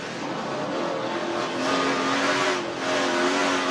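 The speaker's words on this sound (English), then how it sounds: "Listen to him work that throttle." A race truck engine screams at full throttle from an onboard position during a dirt-track truck race, holding a loud, steady high-revving roar with slight pitch swells as the driver modulates the throttle.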